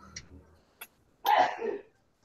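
A single sharp sneeze bursts out near the microphone, loud and brief, after a couple of faint clicks and a soft breath beforehand.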